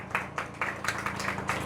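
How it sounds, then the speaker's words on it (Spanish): A church congregation clapping in a steady rhythm, with crisp, evenly spaced claps roughly four per second, fairly close and moderately loud. "Dale un fuerte aplauso,"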